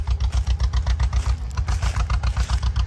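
A tractor pulls a plow through a field at a plow day event, its engine chugging with a steady pulsing beat at moderate distance.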